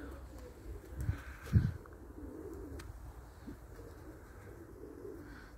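Pigeons, including tumbler-type birds, cooing softly at a loft in Elbląg, Poland, with a couple of low coo bursts near the start over a steady faint background.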